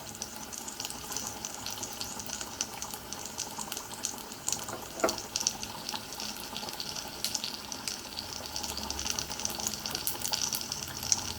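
A mustard seed, cumin, garlic and dried chilli tadka is poured into dal, giving a steady, fairly faint crackling sizzle that runs continuously without any talk.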